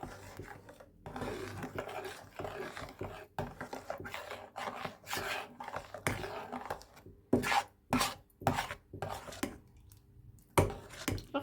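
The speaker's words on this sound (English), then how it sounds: "You can see it's getting nice and thick now. Just keep stirring that." A spoon stirs thickening rice pudding in a pot, making close rasping scrapes and rubs in uneven strokes, with short pauses between bursts of stirring.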